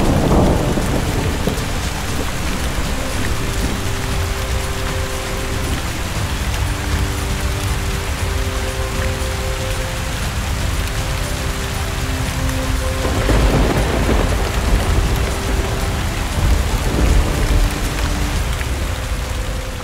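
Heavy rain pours steadily in Brazil, a dense close roar of drops on surfaces, while thunder rumbles low underneath and swells at moments; no voices are present.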